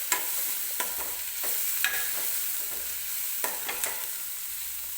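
Turmeric stirred into a frying pan for Karnataka-style susla breakfast, a steady soft sizzle broken by scattered spoon scrapes and clicks, close and moderately quiet, with no voices.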